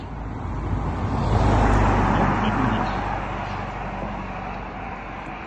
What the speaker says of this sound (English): here comes a car behind me